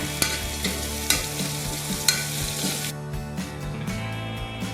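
Peas dusted with turmeric being stirred in a frying pan, spoon scraping in a few distinct strokes over a steady sizzle, close and alone without voices.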